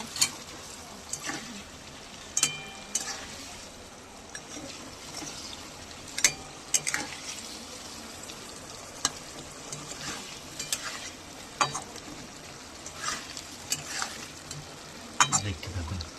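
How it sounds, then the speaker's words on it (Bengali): Bhola fish going into a simmering curry gravy of onion, tomato, ginger, garlic and coriander leaves, heard as a steady close sizzle and bubbling with scattered sharp clinks and stirring knocks throughout. "এবার মাছগুলো ঝোলে ঢেলে দিই"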